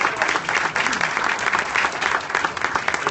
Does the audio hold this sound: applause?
yes